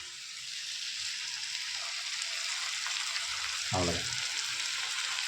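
Beaten egg poured over softened tomatoes fries in a pan with a steady, close-up sizzling hiss throughout, and a voice speaks briefly near the end.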